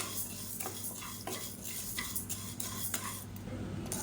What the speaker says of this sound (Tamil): இப்போ இது நல்லா பொன்னிறமாக வறுத்துக்கலாம்.